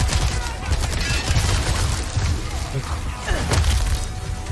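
Rapid gunfire from Resident Evil 4 Remake gameplay, dense bursts of shots and thuds with impacts and crashes, loud and continuous with a faint voice underneath.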